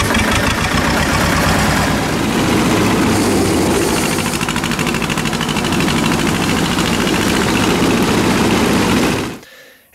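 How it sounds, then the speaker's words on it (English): The two-cylinder engine of a Belarus 250 tractor idles loudly up close with a steady, pulsing throb, then shuts off abruptly just before the end. "for being a two-cylinder machine, it actually runs surprisingly smoothly"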